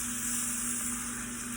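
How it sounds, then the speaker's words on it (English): Sirloin steak searing in a hot skillet with oil and butter, giving a steady, close hiss of frying fat as the sides are rolled and browned, with no talking. "We literally just want to roll the steak around, searing those sides real quick"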